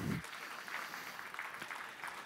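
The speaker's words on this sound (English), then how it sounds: "Round of applause to Nikolai." Audience applause welcoming a jury member at a startup pitch stage, a soft, distant, even wash of clapping following a brief spoken word at the very start.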